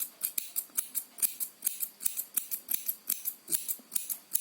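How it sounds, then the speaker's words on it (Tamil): Steady, rhythmic snipping of a cutter trimming the yarn of a crochet pom pom, about four to five crisp cuts per second, close and alone with no talking. "எனக்கு சிசரோட கட்டர்ல வந்து எனக்கு ஈஸியா வந்து கட் பண்ண வரதுனால நான் கட்டர் எடுத்திருக்கேன்."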